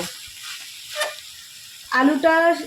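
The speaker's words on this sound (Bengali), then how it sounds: "কষিয়ে যে আলুটা আমরা সেদ্ধ করে রেখেছিলাম, সেই আলু সেদ্ধটাও এর মধ্যে দিয়ে ভালো করে সুন্দর করে কষিয়ে নেব।" Boiled potatoes being sautéed in a frying pan give a brief, sharp sizzle near the end, after a quiet stretch with faint background noise.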